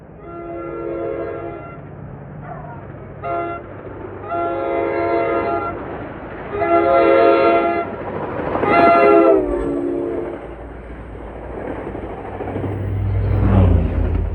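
NJ Transit train, train 1263 running Hoboken to Waldwick, passing on a mild day with repeated loud horn blasts in a long sequence, rumble and wheel clatter beneath, the train drawing close by the end.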